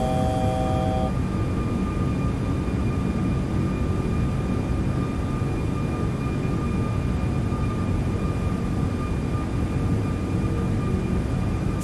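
Airbus A340-600 airliner climbing after takeoff in a flight simulator game, a steady, loud broadband engine roar with a thin whine running on throughout, with no talk over it.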